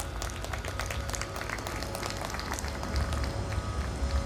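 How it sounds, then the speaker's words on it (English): An audience at the inaugural session of the 53rd Indian Valuers Congress claps steadily, a dense patter of many hands heard from within the hall, swelling slightly near the end. "A huge round of applause for Sir."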